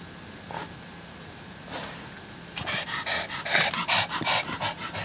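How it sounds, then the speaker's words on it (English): Dog panting in quick, close, rhythmic breaths that grow louder and more insistent toward the end, with a couple of snorts earlier on. "she's all nutty and she's panting."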